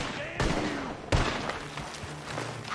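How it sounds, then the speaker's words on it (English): Gunfire in the Red Dead Redemption 2 video game, two sharp distant shots about a second apart followed by a lingering rumble, with faint game ambience. "The gunshots are coming from that..."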